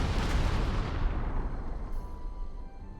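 Carpet bomber strike in Panzer Corps 2, a single heavy booming blast with deep rumble that decays over a few seconds, loud and close with nothing else over it.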